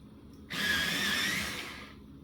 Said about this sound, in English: I'm going to sharpen it even more.